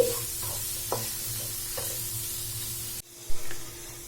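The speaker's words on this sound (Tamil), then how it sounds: "இப்போ நம்ம வந்து கொஞ்சமாக கருவேப்பிலை போட்டுக்கலாம்" Curry leaves drop into frying potato fry in a pan. A steady close sizzle runs with soft stirring scrapes, then cuts off abruptly near the end, followed by a brief clatter.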